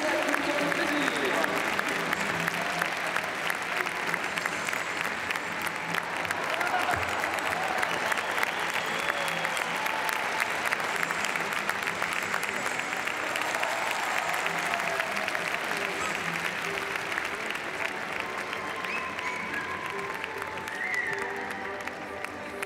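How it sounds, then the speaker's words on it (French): Audience at the Saut Hermès CSI5* show jumping event in the Grand Palais, Paris, applauding riders with steady, sustained clapping that fills the hall for the whole stretch, with crowd murmur mixed in. "Voulez-vous bien les applaudir?"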